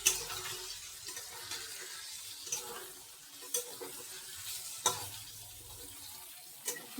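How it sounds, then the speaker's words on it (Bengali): Paneer fries in a pan with a soft, low sizzle, broken by a few sharp clicks and scrapes from stirring; no one speaks. "দেখেছো তোমরা, পনিরটা ভাজা হয়ে গেল।"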